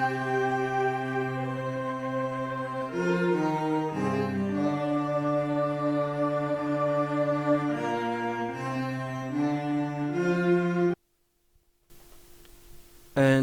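A soulful R&B sample built from a layered synth pad, choir and solo cello holds rich sustained chords that shift every few seconds, then cuts out abruptly before a brief quiet tail.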